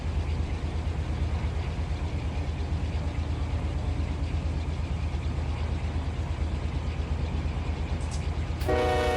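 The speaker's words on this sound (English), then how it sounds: "you know you are on a draggy slop freight when you got the coal train passing you up" A long coal train in the Run8 railroad simulator rolls past in a steady, loud rumble of wagons on rails, continuous throughout, with a brief horn-like tone rising right at the end.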